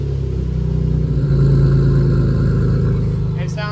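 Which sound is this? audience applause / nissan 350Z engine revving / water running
nissan 350Z engine revving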